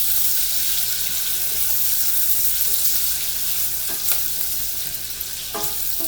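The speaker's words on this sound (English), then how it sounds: "Now, let's stir up these onions." Onions frying in a pan while being stirred: a loud, steady hiss of sizzling fat with occasional clicks and scrapes from the stirring spoon.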